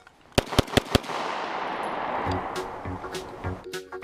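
A toy pistol fires four sharp cracks in quick succession, close and loud, followed by a lingering noisy hiss and a short series of softer electronic pulses.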